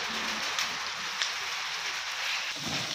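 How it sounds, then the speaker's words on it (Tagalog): Rain falls steadily outdoors as a dense, loud hiss with occasional sharper drops, continuous and without talk. "pumapatak yung ulan"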